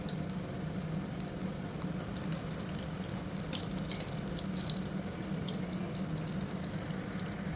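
Prawns fry in oil in a small pan over a medium flame, a steady soft sizzle and crackle with scattered pops, close by and without talk.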